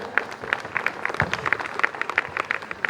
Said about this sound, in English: A huge round of applause for all cute dancers